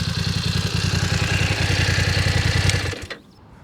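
BMW Motorrad F 900 R motorcycle engine idling close by with a loud, rapid pulsing beat, then cut off abruptly near the end.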